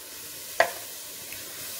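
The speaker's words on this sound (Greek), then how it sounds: "το πολτοποιημένο φινόκιο και το τσιγαρίζουμε και αυτό" Fennel purée sautéing in a pan, with a soft, steady sizzle under a single sharp clink of a utensil partway through.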